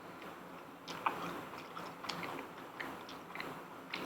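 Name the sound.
chewing crunchy Korean sweet and sour pork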